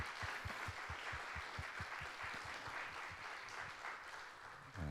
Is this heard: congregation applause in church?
yes